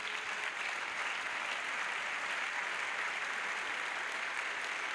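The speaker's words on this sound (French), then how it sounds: "Let us first of all clap." Congregation applauding together at a church evangelism crusade, a steady dense wash of many hands clapping that fills the room without pause.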